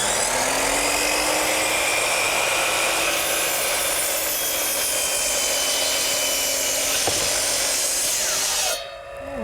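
A power saw cutting through wooden deck boards during a deck repair, a loud continuous high-pitched whine that runs for about nine seconds and then stops abruptly.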